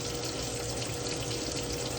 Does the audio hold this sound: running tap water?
yes